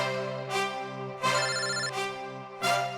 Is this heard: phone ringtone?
yes